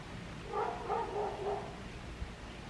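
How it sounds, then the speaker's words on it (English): A dog barks four times in a steady rhythm, faint and distant, with a quiet background and no talking. "Who was barking?"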